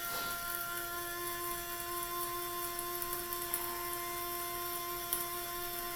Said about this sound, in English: I don't want to grind it up too much.